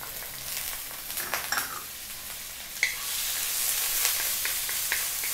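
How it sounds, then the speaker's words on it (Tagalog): Chopped onion and celery sauté with ginger and garlic, a steady close sizzle with scattered clicks and scrapes of stirring, growing a little brighter after a sharp clink midway. "Pagkatapos ng celery, i-add na rin natin yung ating chopped onion."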